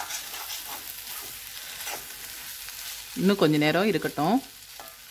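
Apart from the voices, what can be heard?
turning potato roast frying in a kadai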